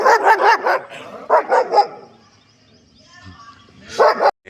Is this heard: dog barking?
yes